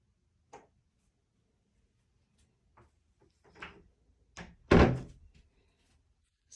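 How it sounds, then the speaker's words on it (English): Accordion shower door in a 24-foot Survivalist camper being handled, a few sparse clicks and light taps followed by a louder thunk as it latches, close and in a quiet room. "It does have our standard 24 by 32 shower with the accordion door."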